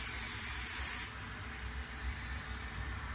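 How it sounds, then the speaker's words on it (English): Hairspray from an aerosol can bursts out in one loud, close, continuous hiss for about a second, then cuts off to quiet room noise. "Now he has hairspray."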